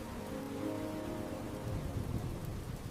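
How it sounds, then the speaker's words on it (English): Steady heavy rain pours down during a flood, a dense continuous hiss with low rumbling beneath, faint and even throughout. "the rain is still falling very hard."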